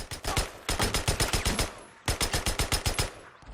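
Two bursts of rapid automatic fire from a US 5.56 rifle in the video game Days Gone, each a steady rhythmic string of loud, close, punchy shots with a short pause between bursts and no talk.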